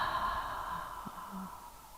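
One soft, deep exhale of breath during a yoga relaxation exercise, a faint, airy sigh that trails off quietly.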